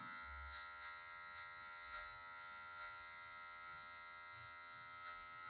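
Electric hair clipper buzzing steadily while taking off the guide line during a mid fade haircut, a continuous close hum with faint uneven rises as the blade moves.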